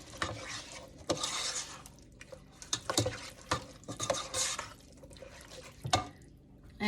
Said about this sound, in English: And I'll stir that around.